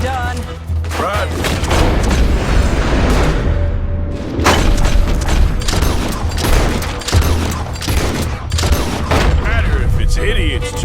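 Explosions and Gatling gunfire rage in Red Dead Redemption 2, with a loud, unbroken barrage of rapid shots, heavy booms and mechanical clatter filling the whole stretch.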